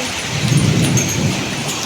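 Hailstones fall during a rainstorm, a dense, steady hiss of rain and ice hitting surfaces, loud and continuous, with a low rumble underneath.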